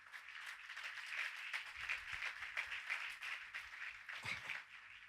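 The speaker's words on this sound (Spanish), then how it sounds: "Cuánto le dan un aplauso a Jesús por eso" A church congregation applauds, a dense wash of many hands clapping at once, steady and moderately loud, with no voices on top.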